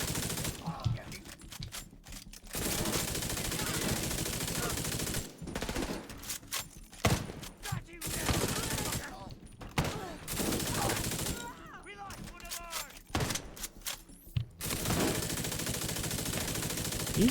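Shotgun fire in The Division 2 shooter game roars in long, dense blasts separated by brief pauses, loud and close, with game effects beneath.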